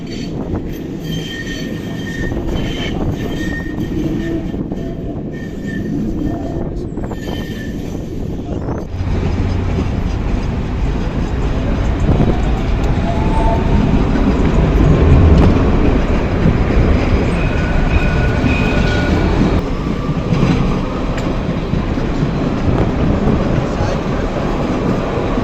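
A crowded Citydis tram in Tunisia rolls along, its steady rumble and rail noise running throughout, with wheel squeal and a louder surge partway through, under some faint voices.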